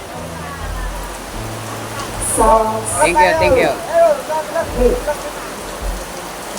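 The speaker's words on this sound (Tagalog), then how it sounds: "tingnan nyo ang ulan. Ang lakas. Malakas." Heavy rain hisses steadily in the background while a person speaks briefly over it, with a few louder splashes and patters.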